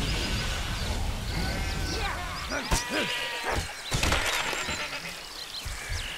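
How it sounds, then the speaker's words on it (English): Sheep in the video game Overlord bleat in a couple of short, wavering calls near the middle of the clip, heard over a busy background of in-game sounds. "more sheep"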